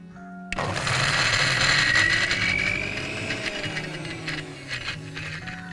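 A mixer grinder whirs to life on a chocolate mixture after a brief quiet moment, a loud, steady motorized whine that slowly eases in strength, with a faint tonal hum underneath.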